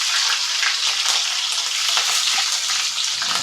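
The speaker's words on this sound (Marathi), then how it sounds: "थोडी मोहरी टाकायची 1/2 चमचा, अर्धा चमचा जिरं, थोडासा हिंग, चिमूटभर हिरवी मिरची टाकायची" Mustard seeds, cumin, hing and green chilli frying in hot oil for methi bhaji, a loud, dense, unbroken close sizzle with faint crackles throughout.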